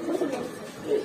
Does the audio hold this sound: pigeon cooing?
yes